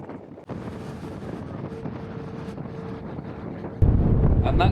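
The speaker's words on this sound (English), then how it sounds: "It's so windy on board." Strong wind buffets the microphone on board a boat crossing from Spain to Tangier, a constant loud rush with a low engine drone beneath and a heavier gust near the end.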